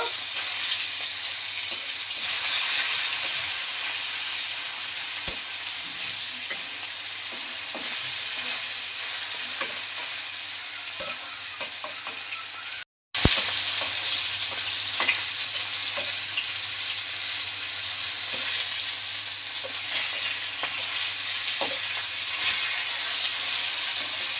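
Fish pieces fry in hot oil and get turned, giving a continuous loud close sizzle with small spatters and utensil taps, briefly cut off midway before resuming.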